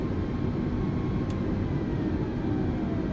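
Steady, continuous low engine rumble from an Airbus A320neo airliner taxiing toward the runway in Microsoft Flight Simulator 2020, a constant drone at even loudness with no voices.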